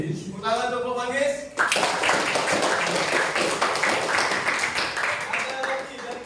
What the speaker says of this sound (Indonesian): Tepuk tangan untuk kelompok Manggis